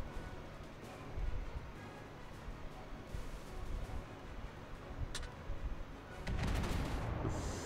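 Big naval guns from the battleship Fuso firing in a naval warfare game, with booming salvos and rumbling blasts that grow heavier toward the end.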